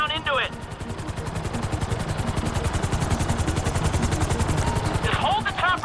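Helicopter rotor thumping steadily while hovering in place in GTA 5, a fast even chop with whining engine tone, loud and continuous, with brief bursts of chatter near the start and end.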